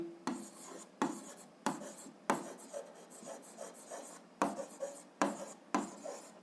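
Pen or marker strokes rasp across a surface while an equation is written out by hand for a grade 7 algebra exercise, short scratchy bursts repeating in an irregular rhythm, close and fairly quiet.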